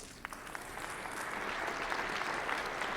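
Audience clapping at a county government address, a steady, moderately distant spread of many hands that builds slightly and holds for about three seconds, with no voices over it.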